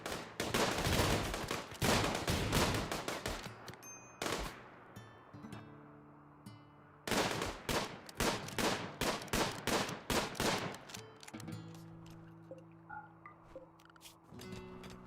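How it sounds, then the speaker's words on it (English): Several RimWorld colonists fire on a fleshmass heart in dense, overlapping volleys of gunshots with short pauses between bursts, loud and near, followed by scattered single shots and some lingering tones. "everybody come in and shoot it."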